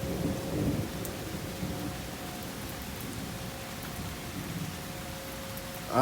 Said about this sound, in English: I don't like lightning and thunder a little bit.